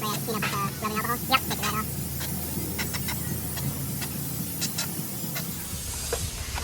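A spray can hisses steadily with overspray during a Sprinter 144-inch van storage locker install, a constant airy spray under intermittent faint clicks and handling noises, fading near the end.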